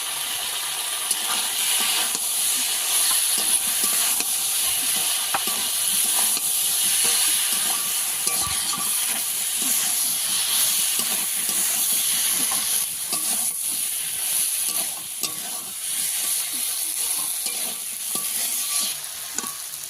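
Cumin and dried red chilli paste sizzling loudly in a pan, a dense, hissing fry with occasional stirring, constant and close, no one speaking.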